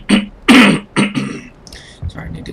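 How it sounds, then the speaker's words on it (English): Someone clears their throat close to the microphone in three or four rough, forceful bursts, followed by quieter mouth noises. "sorry, I need to clear my throat."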